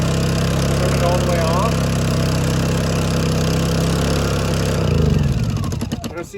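A Honda 2200 watt generator runs in Alaska's cold weather with a steady close engine hum, then it is switched off and sputters down over the last second or two while a voice speaks over it.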